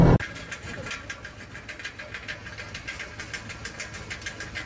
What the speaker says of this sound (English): Rattling or rumbling noises when you accelerate can be a sign of a failing exhaust system